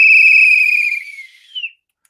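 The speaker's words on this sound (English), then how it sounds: "I'm getting tired of blowing this whistle" A referee's whistle gives one long, loud, shrill blast that fades out after about a second, then a brief sharp chirp, heard alone and close with no talking.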